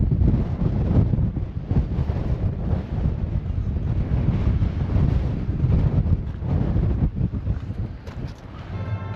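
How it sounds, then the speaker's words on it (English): Strong wind on a beach buffets the microphone in heavy, uneven gusts, a loud continuous roar with low rumbling throughout. "It's windy."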